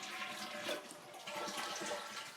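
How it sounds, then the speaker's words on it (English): A household toilet being flushed during a running-toilet repair, with a steady broadband rush of water that swells and continues without pause, close and fairly loud. "Next step you would like to do is to go ahead and flush the water down."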